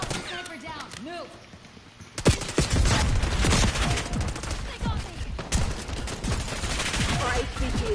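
Rapid bursts of video game gunfire in a Black Ops 6 multiplayer match on PS5, sharp repeated shots and fusillades following a quiet stretch, dense and loud, with game voice callouts in the mix.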